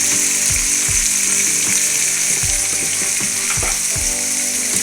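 Four tomatoes fry in hot oil in a pan for a fish curry, a loud close sizzle running throughout with repeated scraping and knocking from stirring, no speech.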